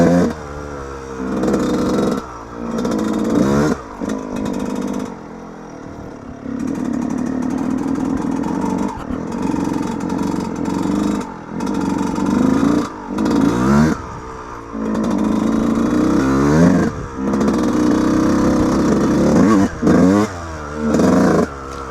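A Yamaha YZ125 two-stroke dirt bike ridden off-road on a wet trail after a rainstorm. Its loud, close, continuous buzzing engine climbs and falls with throttle and gear changes, with brief dips between bursts and no talking.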